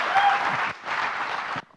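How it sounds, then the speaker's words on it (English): An audience claps steadily to welcome a speaker onto the stage at an Alexa Community Day event, a dense, loud burst of applause that dips briefly midway and then fades out. "With a really loud round of applause"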